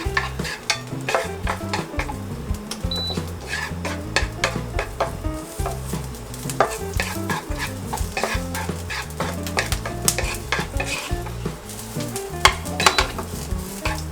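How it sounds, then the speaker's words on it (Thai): Garlic frying in hot oil, a steady close sizzle with frequent scraping and clinking of a spatula stirring against the pan throughout, no talking. "ตอนนี้น้ำมันเริ่มร้อนแล้วนะครับ เราก็ใส่กระเทียมลงไปก่อนเลยอันดับแรก"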